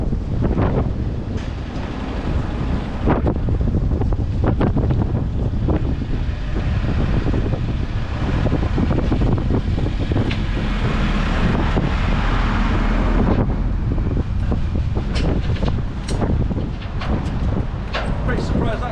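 Strong wind buffeting an outdoor microphone during a drive in heavy traffic, a loud continuous rumbling roar throughout with gusty surges.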